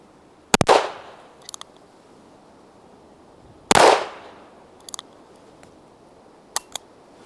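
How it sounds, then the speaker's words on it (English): A Model 28-2 Highway Patrolman revolver fires .38 Special rounds. Two sharp, loud reports ring out about three seconds apart, each with a short decaying echo, and quiet metallic clicks sound in between. "there were 6 shots of 38 Special through the Model 28 Highway Patrolman"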